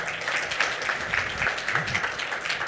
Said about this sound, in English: Everyone, a round of applause for Michal, please.